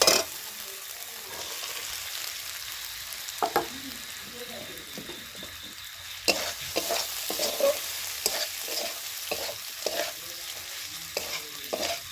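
Potatoes and ivy gourd frying in a pan, a constant sizzle broken by repeated scraping and stirring strokes of a spatula.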